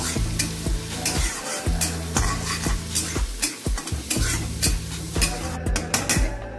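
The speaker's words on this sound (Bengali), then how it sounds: "রসুনটা একটু ভাজা ভাজা করব।" Crushed garlic sizzles in hot oil in a pan, with a spoon scraping and tapping the pan again and again as it gets stirred, close and continuous.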